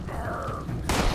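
A grenade in Fallout 76 goes off with a sudden broad, loud burst near the end, after a stretch of muffled in-game noise with a faint tonal hum.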